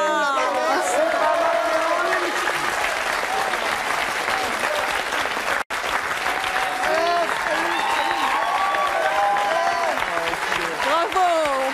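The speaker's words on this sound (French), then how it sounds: "Bravo, on peut l'applaudir." An audience on a French television show applauds steadily throughout, a dense, sustained clapping with crowd noise and voices mixed in, broken by a single brief cut partway through.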